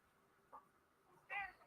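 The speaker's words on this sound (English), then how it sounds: "Fucking cat." A cat pushing close against a microphone gives two short meows, a faint one and then a louder, clearer one, with nothing else around them.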